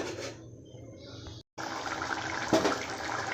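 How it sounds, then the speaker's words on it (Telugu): Water splashes and pours steadily into a cooking pot of dried fish curry, with a brief clink partway through and a short gap, fairly quiet and close. "మళ్ళీ కొద్దిగా వాటర్ వేసినానండి"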